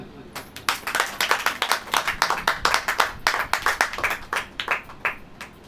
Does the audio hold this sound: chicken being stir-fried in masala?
no